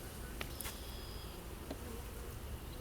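Honey bees drone in a dense, steady buzz during a beehive inspection, with a few individual bees zipping close past in brief louder passes.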